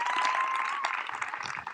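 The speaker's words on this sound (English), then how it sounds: "Can we just give a round of applause for Ashley Sandberg?" Audience applause at a school 8th grade promotion celebration, a steady wash of clapping from a crowd indoors that holds through the moment and thins slightly toward the end.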